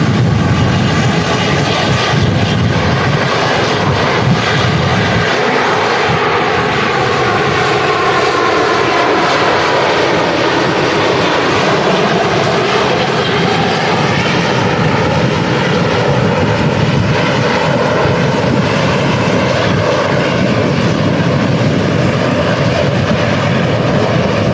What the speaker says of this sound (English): here we go, our first A350 on the roll